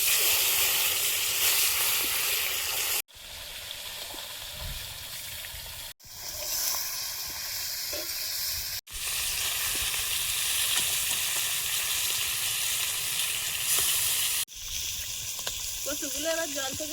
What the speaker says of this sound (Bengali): কড়াইতে তেল দিয়ে দেবো।